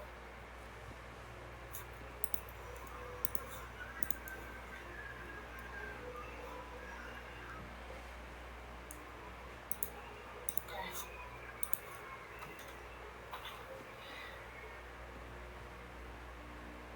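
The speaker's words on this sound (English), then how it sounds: "I'm just typing out the name onto the Jamboard" Quiet typing on a computer keyboard, scattered light clicks in short bursts over a steady low hum and faint background noise.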